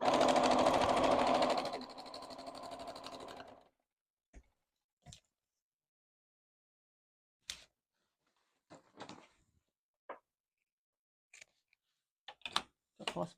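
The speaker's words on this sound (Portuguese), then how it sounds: "Aí passa bem uma costurinha aqui com o pé de máquina." A domestic sewing machine stitches a patchwork seam with its presser foot, a close rapid whirring run for a few seconds that slows and stops, followed by scattered small clicks and handling taps in quiet.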